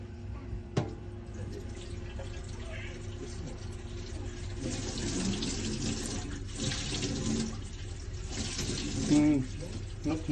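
A hot water tap runs during a test of a faulty Ferroli Bluehelix boiler, giving a steady broadband rush of flowing water that continues throughout, with people talking faintly over it.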